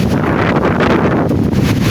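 Strong wind at Animals Falls waterfall in Agusan del Norte, Philippines, buffets the microphone with a loud, continuous roar and rumble, unbroken throughout.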